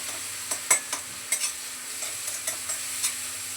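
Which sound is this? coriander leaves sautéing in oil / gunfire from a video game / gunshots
coriander leaves sautéing in oil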